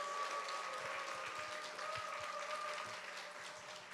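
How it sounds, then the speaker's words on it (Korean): A church congregation claps in steady, moderately distant applause that holds for a few seconds and slowly tapers, with a faint tonal hum underneath. "또 기대합니다. 뜻으로 박수하겠습니다."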